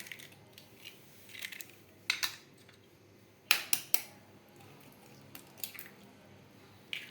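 Two eggs are cracked and poured into a pan for a goat brain omelette, giving a few faint sharp taps and soft wet splats in quick succession, close by and without talk.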